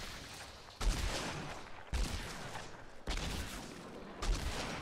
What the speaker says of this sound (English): Let me unload this shotgun because they have reloaded.